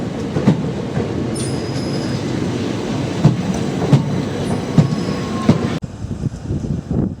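A train runs through South London near Crystal Palace and Gypsy Hill with a steady rumble and rhythmic clickety-clack of wheels over rail joints, faint squeals, then a sudden drop in the noise near the end; no voices.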